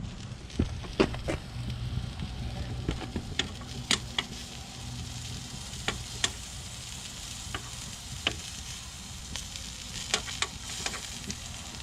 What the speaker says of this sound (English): You should be able to hear the nice sizzle and pop of these.